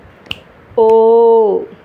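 Two crisp finger snaps, one sharp and one fainter, set apart by a sustained voiced vowel held steadily for nearly a second, marking vowel length in a Tamil alphabet lesson for children.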